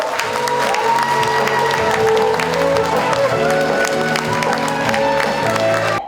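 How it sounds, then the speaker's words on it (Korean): Audience at a Democratic Party of Korea leadership candidates' joint rally in Jeju applauds steadily for the party leader candidates, a dense wash of clapping and crowd noise mixed with loud amplified music throughout. "우리 당대표 후보 여러분께 뜨거운 성원의 박수 부탁드립니다"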